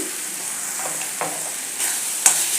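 Turmeric and coriander-cumin powder are stirred into a sizzling tomato bhaji, with a soft steady fry hiss and a few light scrapes and taps from the spoon against the pan.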